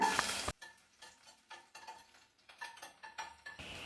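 Crushed garlic cloves frying in hot oil with popped mustard seeds, a loud burst of sizzle at first, then quieter crackling broken by repeated stirring scrapes in the pan, with no voice.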